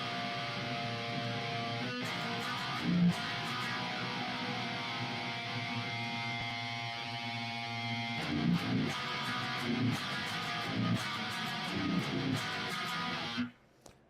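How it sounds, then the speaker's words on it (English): A guitar sounds with a thick, wavering chorus effect, sustained chords shimmering steadily with light percussive clicks, then cutting off abruptly near the end. "Add chorus effect."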